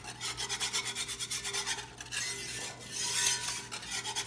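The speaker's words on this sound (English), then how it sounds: "You want to use a whisk because it's getting all of those bits at the bottom of" A whisk scrapes rapidly and rhythmically through a milk and cream sauce for Cajun shrimp and grits in a pan, a close, steady rasping stroke of several beats per second.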